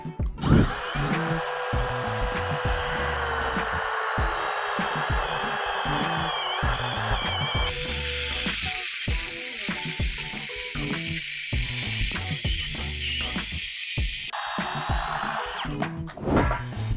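A small cordless battery chainsaw, a Procraft model, whines steadily close up, its pitch shifting as it bites and eases, running continuously with brief changes in load.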